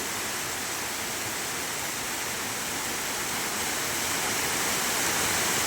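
Steady, dense rush of a small roadside waterfall near Harur, Tamil Nadu, a continuous roar that swells slightly louder toward the end, with no voices.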